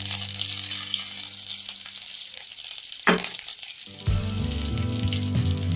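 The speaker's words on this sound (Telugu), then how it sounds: "స్టవ్ మీద ఒక కడాయి పెట్టి కొంచెం నూనె వేసి, నూనె వేడైన తర్వాత ఆవాలు, జీలకర్ర" Mustard seeds, cumin and curry leaves crackle in hot oil in a kadai for a tamarind chutney tempering, a steady close sizzle that breaks into a louder, sharper spitting burst midway as more goes in.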